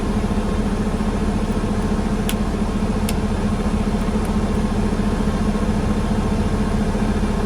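A car engine idles at a low steady rumble, loud and close, holding an even drone with no change in revs throughout.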